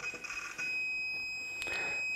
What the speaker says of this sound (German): Kommt ein Ton, ne? Kommt ein Signal.